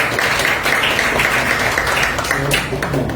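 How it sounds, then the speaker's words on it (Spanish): An audience at a literary talk applauds with a dense, steady wash of clapping, loud and continuous throughout, with voices mixed in. "pido un fuerte aplauso para el café."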